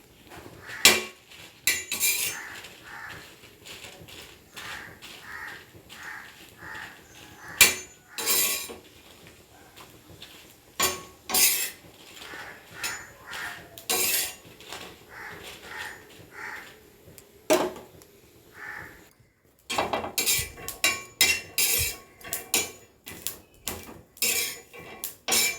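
Chillies dry roasting in a pan without oil for garlic chilli powder, with intermittent scraping and clinking of a utensil against the pan in irregular bursts and a short pause partway.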